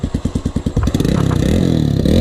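A Honda XR 500 dirt bike engine, loud and close, thumps through a few slow single-cylinder pulses, then revs up into a steady, rising drone.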